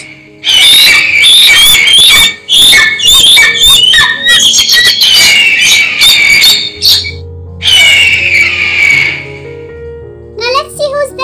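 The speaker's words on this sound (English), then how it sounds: "The sound of eagle is screech." Loud, shrill screeching from an eagle, repeated piercing cries in bursts with short pauses, close and dominant, ending with a different rapid chattering call.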